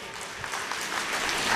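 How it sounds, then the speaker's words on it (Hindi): An audience claps steadily through a short burst of applause at a devotional Bhagavat katha gathering, welcoming a musician seated on stage; the clapping is dense and even, with a faint murmur beneath. "जोरदार तालियों से इनका स्वागत कीजिएगा।"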